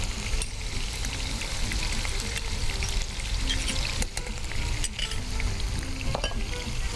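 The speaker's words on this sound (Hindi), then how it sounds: "अच्छा जी, गार्लिक डालूंगी इसमें मैं।" Garlic frying in a hot pan while cooking chicken macaroni with tomato sauce gives a loud, continuous sizzle with occasional faint clinks of a utensil, no talking over it.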